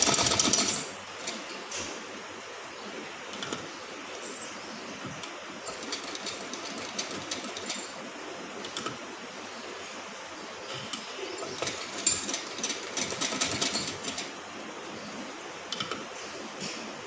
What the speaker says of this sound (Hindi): आप इस तरीके से सिलाई लगाएंगे।